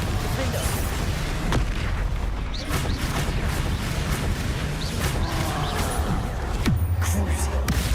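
Confringo and Bombarda spell explosions in the video game Hogwarts Legacy go off in a dense run of booms and bursts over a loud, busy game soundtrack.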